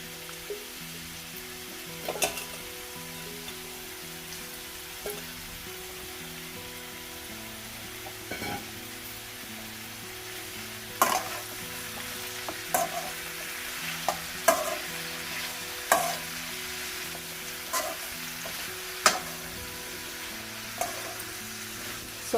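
Mushrooms frying in oil in a pan for a mushroom kurma, a continuous close sizzle with a low hum beneath it, punctuated by regular clacks and scrapes of a spoon stirring, no voices.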